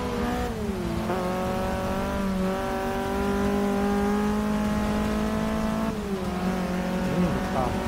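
Race car engine in the Forza 6 video game, a loud sustained drone that holds steady and rises and falls as the car shifts gears, with brief tire squeal in places.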